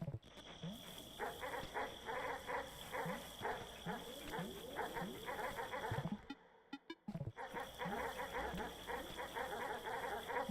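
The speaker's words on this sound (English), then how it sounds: "listen to those happy puppies. They're so happy." A pack of dogs in the Animal Well video game barks and yaps continuously in a dense, overlapping chorus, briefly dropping out for a moment before the excited barking resumes just as loud.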